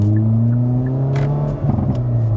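A Hyundai i30's engine hums loudly and steadily, then its pitch rises as it accelerates, close and unbroken throughout.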